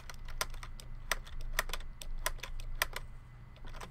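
Rapid clacking of keys on a computer keyboard during a game, close and fairly quiet, with irregular bursts of sharp taps and no talking.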